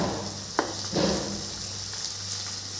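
Tomatoes hit hot oil in a pan for street-style masala Maggi and sizzle steadily, with a couple of sharp clinks from a spoon early on.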